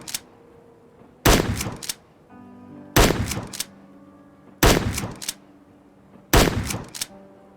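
Gunfire from a weapon in the Roblox Wild West game: four sharp, loud shots spaced roughly every 1.7 seconds, each followed by a short ringing decay, with near-silence between.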